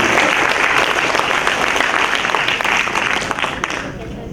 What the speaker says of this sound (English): let's give a round of applause for this partnership